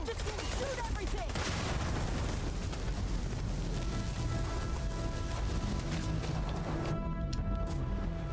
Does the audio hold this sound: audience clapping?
no